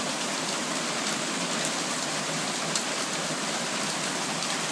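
A hailstorm in Calgary pelts down in a dense, steady roar of ice and rain hitting the ground and surfaces, loud and unbroken throughout.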